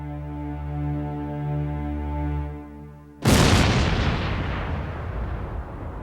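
A single huge blast from Big Bertha, the largest German cannon, firing a one-ton shell: one sudden deep boom that rolls on and decays over several seconds, following a steady low musical drone.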